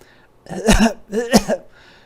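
Two rough, throaty coughs come close together, fairly near and moderately loud, with a short breath in between.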